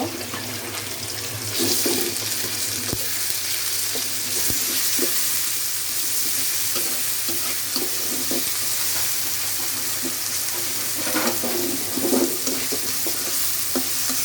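Onion and garlic fry in hot oil in a pan, giving a continuous close sizzle with scattered pops and crackles and occasional stirring scrapes, with no talk over it.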